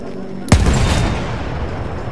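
A ship's guns fired in the game Battlefield 1: a single sharp, loud boom with a rumbling tail that decays over more than a second, following a quieter stretch of in-game background noise.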